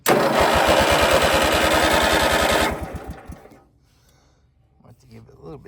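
A vintage rat rod lawn mower engine sputters to life and runs loud and close with a fast, rhythmic popping chug, then dies and coasts down into quiet, leaving faint background sounds.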